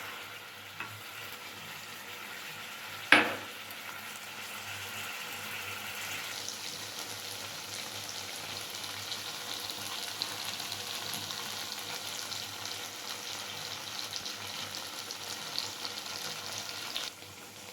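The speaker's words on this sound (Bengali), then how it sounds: "এবার দিয়ে দেব গুলে রাখা কর্নফ্লাওয়ার।" Cabbage chilli sizzles steadily in a hot pan as cornflour slurry is poured in and stirred through, a sharp splash near the start giving way to continuous frying hiss.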